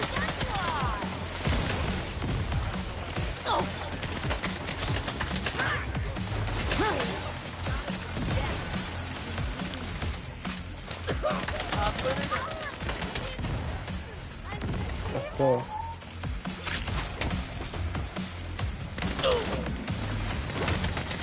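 Fireworks in the Saints Row video game crackle and pop in dense, continuous bursts, with sharp bangs and whistles layered over loud game noise for about twenty seconds, while people talk underneath.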